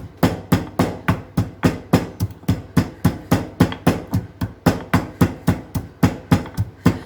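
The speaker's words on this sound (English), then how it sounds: "pound this. Or make a coarse powder" Cumin and other spices pounded into a coarse powder for rasam, a fast steady run of loud, close, evenly spaced thuds of a pestle striking a mortar.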